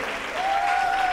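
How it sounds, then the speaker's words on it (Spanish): Carnival audience applauding a comparsa at a festival in Marmolejo, a brief steady wash of clapping with a sustained musical tone rising underneath. "Fuerte el aplauso para Miguel y para esta comparsa."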